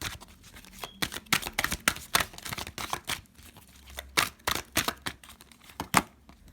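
Oracle cards being handled and shuffled at close range, with a rapid run of crisp papery flicks and riffles coming in uneven bursts, alone without any talk.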